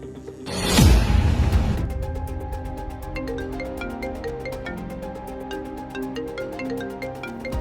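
A mobile phone ringtone sounds indoors in a family home: a sharp swoosh, then a steady repeating electronic melody that stays moderately loud throughout.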